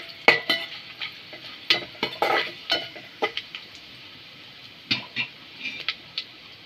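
Whole spices and bay leaves sauté in hot oil for a mutton curry, with soft sizzling under a series of sharp scraping and clinking stirring strokes from a spatula in the pan, close and fairly quiet.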